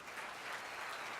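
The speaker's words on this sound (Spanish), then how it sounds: "Dele un aplauso al Señor." A brief burst of applause from a church congregation at a Spanish-language service, many hands clapping together in a steady, even wash of sound from a fairly large group.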